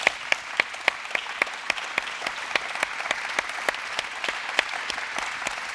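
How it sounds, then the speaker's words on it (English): A forum audience at a state fair applauds, a fairly soft wash of clapping with several sharp individual claps standing out at regular intervals throughout. "Let's give them a big round of applause"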